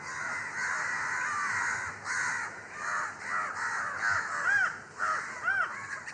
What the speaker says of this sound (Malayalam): ഇവിടെ നിന്നും ഇറങ്ങേണ്ട താമസം ഇതുപോലെ കാക്കകൾ കൂട്ടമായെത്തും